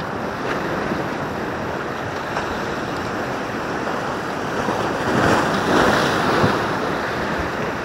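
Big ocean waves break and wash along the shore where someone is fishing, a constant broad rush of surf with a louder swell near the end, mixed with some wind noise and no voices.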